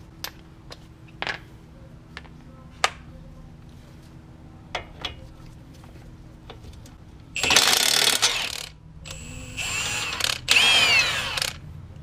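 Socket ratchet wrench worked on the front shock and stabilizer linkage of a Toyota Prius, with sparse sharp clicks early on, then a louder run of dense ratcheting near the end.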